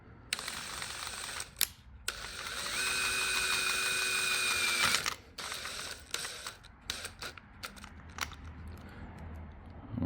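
Power drill driving a screw into a 3D printed phone mount for a KTM 690, a steady whirring run of several seconds between shorter bursts and clicks, close and fairly loud.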